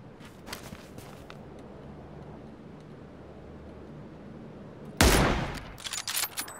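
Gunfire in the PUBG battle royale game, a sudden loud burst of shots near the end following a stretch of quieter in-game ambience and faint footsteps.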